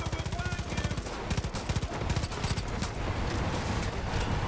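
Rapid bursts of automatic gunfire from enemies in the shooter game Far Cry 5, dense rattling volleys running almost without pause, loud and close throughout.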